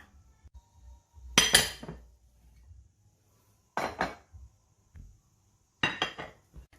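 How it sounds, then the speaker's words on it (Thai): Hot rice is scooped onto a plate in a home kitchen, giving three separate bursts of clinking dishes and cutlery against a quiet background. "ทีนี้เราก็ไปตักข้าวร้อนๆมาค่ะ"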